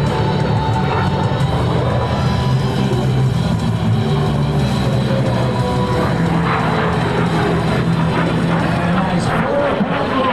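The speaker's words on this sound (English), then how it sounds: "The aircraft is powered by the Havilland Vampire." A de Havilland Vampire DH-115 jet roars steadily at an airshow, a loud, continuous engine drone that stays close and constant throughout, with a public-address announcer talking over it.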